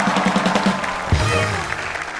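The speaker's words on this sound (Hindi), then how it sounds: "जोरदार तालियां रेखा जी के लिए।" A studio audience on the Kapil Sharma Show briefly applauds for actress Rekha, a short burst of clapping mixed with voices and other studio sound.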